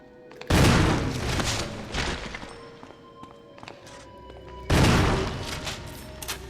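Gunfire in the Resident Evil video game: two heavy, booming bursts of shots, one at the start and one later, with softer thuds and game noise between them and no talk over it.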